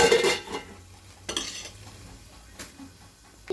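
Onions being stirred in a pan until brown for an egg curry, a soft sizzle under a few scraping strokes of a spoon against the pan, close and fairly quiet.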